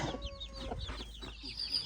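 Startled chickens being grabbed and stuffed into a sack for moving to a rice field give a quick string of clucks and short squawks, close by and moderately loud, with a low rumbling background throughout.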